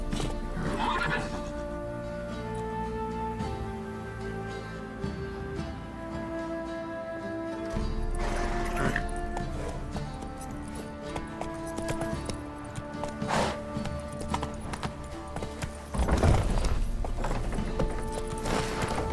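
A horse in The Witcher 3: Wild Hunt whinnies several times over steady hoof clip-clop while riding. Droning in-game music plays under the sounds.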